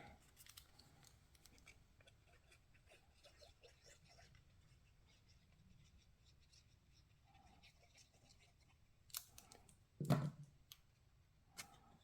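Scissors cutting paper for a Z fold card, a few quiet snips near the end after a stretch of faint, near-silent handling of paper.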